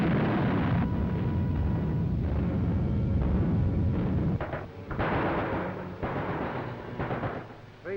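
Continuous rumbling barrage of artillery fire from the assault on the fortress of Sevastopol in a 1940s war film, a dense, loud roar with overlapping booms that dips briefly midway before resuming.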